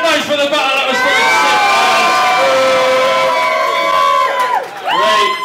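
A loud rap battle crowd cheers, whoops and shouts continuously, with a brief dip before the roar surges back.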